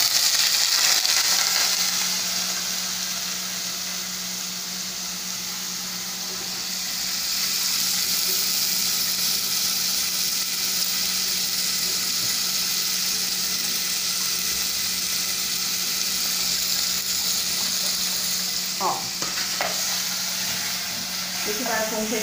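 Wet dried salted beef (carne seca) spatters and sizzles in a hot frying pan. A steady broadband hiss runs throughout, with a steady low hum beneath it and a few sharp crackles near the end.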